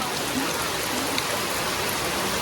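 Sudden rainfall pouring over rice laid out to dry outdoors, a loud, dense and unbroken hiss of heavy rain that holds steady from start to finish with no voices.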